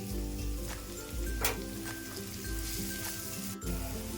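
Turmeric and salt fry in a pan with a soft, steady sizzle throughout, broken by a couple of brief clinks, heard close with no voices.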